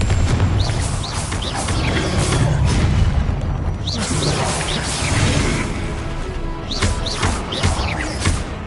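Fiery Confringo blasts from Hogwarts Legacy boom repeatedly amid dense spell combat, with whooshing casts and crashing impacts layered over a constant loud rumble and shouted spell names.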